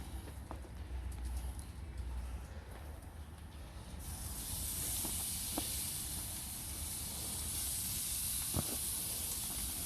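Lamb chops cooking on a Cuisinart grill preheated to 500 and turned down to medium-high, giving a steady close hiss that swells louder partway through and then holds constant, with no talking.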